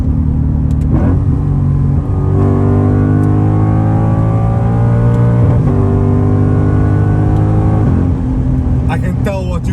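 A Lexus IS F V8 engine revving hard under full acceleration from inside the cabin, loud rising engine notes climbing through gears with brief drops at shifts, a continuous close roar.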